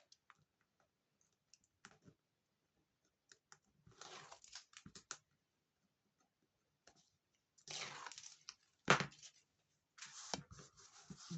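Backing film is peeled off double-sided tape while making a homemade gingerbread-house advent calendar, heard as quiet intermittent crackles and short tearing rasps separated by near silence.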